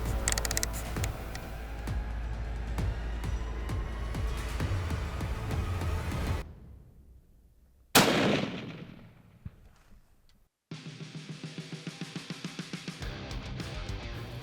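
A single sharp rifle shot fired at a whitetail deer about 400 yards away from a rifle resting on a tripod on a South Texas ranch, a loud crack followed by a fading echo, with quiet ambience before and mechanical clicking after.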